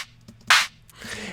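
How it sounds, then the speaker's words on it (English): A very short, bright bass house clap sample strikes once, sharp and crisp against a low background hum, with faint noise before and after. "So it's like it's a very short clap."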